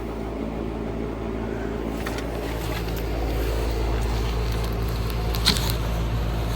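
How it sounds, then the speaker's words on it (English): A heat pump fan motor runs in heat mode, a steady low hum and whir that rises slightly partway through, with a few faint clicks and ticks over the drone. "There's the fan motor."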